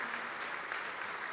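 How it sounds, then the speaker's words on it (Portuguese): Church congregation applauding during a worship service, a steady dense wash of clapping filling the whole short moment with no voices on top. "Vamos aplaudir mais, igreja."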